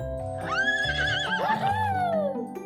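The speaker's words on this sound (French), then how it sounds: "Oh, le cheval!" A horse neighs in a long, loud whinny that rises, wavers and then falls away, heard up close over a faint background hum.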